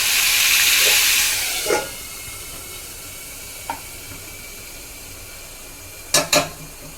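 Tomatoes tipped into hot oil with chillies for Kathiyawadi papad vada hiss loudly at first, the sizzle settling to a softer steady fry broken by a few sharp utensil knocks.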